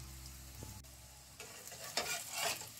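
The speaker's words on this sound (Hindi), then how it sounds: "तो ऐसे करके वो ब्रेड को फ्राई कर लेते हैं।" Semolina egg bread toast shallow-fries in a pan, a quiet faint sizzle that grows briefly louder with short crackling bursts near the end.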